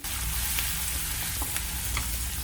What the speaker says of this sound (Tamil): பெரிய தக்காளியாக இருந்ததுன்னா பாதி அளவு சேர்த்து நல்லா வதக்கி எடுத்துக்கணும்